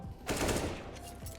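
A short rattling burst of gunfire plays in a Counter-Strike match, loud and close, followed by fainter echoing shots and game noise.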